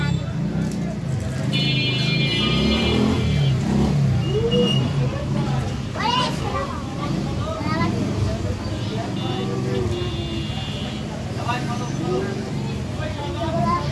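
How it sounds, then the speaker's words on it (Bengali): Dense traffic noise on a crowded market road, engines rumbling and vehicles passing nearby as a steady loud din, with scattered voices and a horn-like tone woven through. "ভর ভর শব্দ শুরু গাড়ি ঘোড়ার।"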